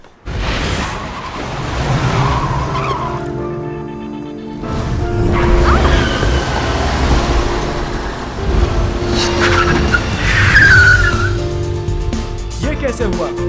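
A car skids and rolls into a parking spot by itself amid a dramatized scene, with a whooshing engine and tire noise swelling twice, loud and close, layered under music and voices.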